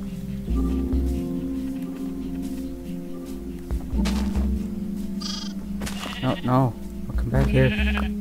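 Sheep bleat in Minecraft Bedrock Edition, several short wavering cries rising over a steady game ambience and a low hum, closer and louder toward the end, with a voice talking at moments.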